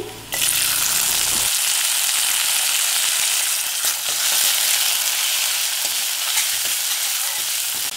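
Ten peeled and cut small onions drop into hot oil and burst into a loud, close, hissing sizzle that holds steady for several seconds, with faint stirring ticks and no talking.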